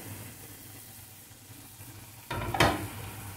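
Potatoes drop into simmering chicken curry masala in a pot, a sudden loud sizzling burst and splash after a low steady hiss, rising then easing off.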